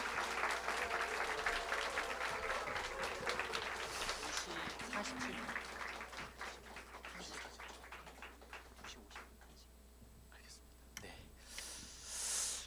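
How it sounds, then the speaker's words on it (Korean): An audience at a church youth teaching school gives warm applause welcoming a pastor, the clapping strong at first and then thinning out, with soft murmurs and a few stray claps as it fades. "우리 기대만큼이나 큰 박수로 우리 환영하도록 하겠습니다"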